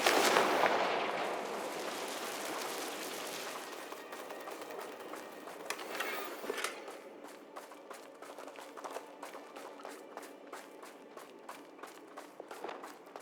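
Fire spell blasts from the Confringo spell in the video game Hogwarts Legacy, with a loud burst at the start fading into a series of sharp, rapid crackling impacts and pops that continue at moderate volume.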